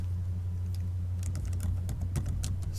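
Typing on a computer keyboard, a quick irregular run of close key clicks that starts after a quiet second, over a steady low hum.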